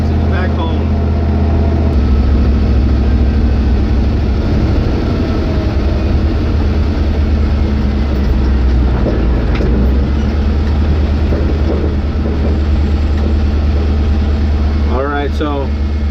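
Carbureted Dodge W100 truck with a swapped LS 5.3 V8, heard from inside while driving: a steady, loud low engine drone and road rumble throughout, with no talk.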